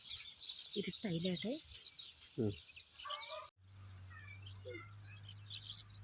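Scattered calls and chirps of birds, including migratory birds, settling to roost at dusk in a village, some close and some distant, over a faint hiss and hum; a person speaks briefly partway through.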